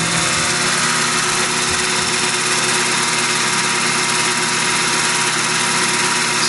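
A Tormach PCNC 1100 Duality lathe takes a cut in metal at 1000 RPM with a 30-thousandths radial depth, a loud, steady mechanical hum and whine with constant noise throughout and no talking.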